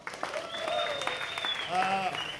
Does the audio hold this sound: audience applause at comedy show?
yes